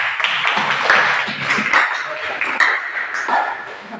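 A classroom group receives applause: a loud burst of dense clapping with sharp slaps that lasts throughout, with a few voices mixed in.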